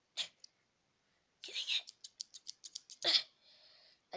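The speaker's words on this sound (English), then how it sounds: "These scissors worked and now my hand's out." Sharp scissors snipping, a fast series of about eight crisp, close metallic cuts in a row, with a few hushed whispery voice bursts before and after.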